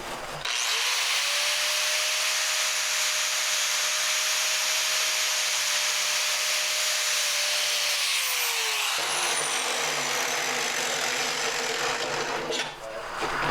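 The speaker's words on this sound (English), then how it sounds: "since I'm using the cup brush, I'm going to put it in the vise." A rotary cup brush on a power tool grinds against metal clamped in a vise, a loud steady whine holding for about eight seconds before spinning down, then a softer rough scraping continuing to the end.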